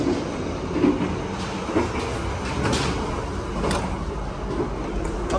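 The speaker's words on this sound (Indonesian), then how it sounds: "kita sekarang ada di kereta makan teman-teman" Steady rumble and rattling inside a moving stainless-steel train dining car on a Jakarta to Banyuwangi journey, with faint clatter and soft background voices throughout.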